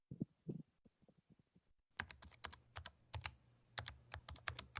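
Computer keyboard typing played as a guess-the-sound quiz during an online financial literacy webinar: a few soft clicks, a brief silence, then a steady run of close, crisp key clicks alone.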